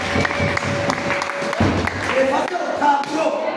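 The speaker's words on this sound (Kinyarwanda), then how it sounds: "Wakomeye Imana amashyi." Church congregation clapping in praise of God, a dense patter of applause running under a preacher's loud voice throughout.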